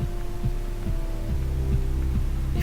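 A steady heartbeat-like throbbing pulses from a rock in the video game Sanctuary, a regular low thump repeating about every half second over a constant droning hum, fairly loud and close with no talking.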